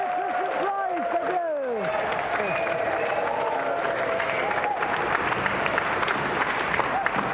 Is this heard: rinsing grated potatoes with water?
no